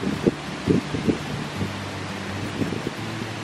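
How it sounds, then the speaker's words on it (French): Gusty wind at a beach in Martinique buffets the microphone with a constant rushing roar and intermittent low thumps. "Je sais pas si vous pouvez m'entendre parce qu'il y a beaucoup de vent."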